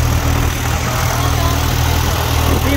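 A New Holland 6510 Excel or John Deere 5405 Gear Pro 4WD tractor engine runs steadily while driving a rotavator, a close, loud, continuous low rumble with constant droning throughout.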